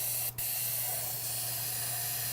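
Cleaner sprayed from a can into an empty paint cup at a hobby workbench while making scatter terrain, a steady close hiss running throughout under a low hum, with a tiny break early on.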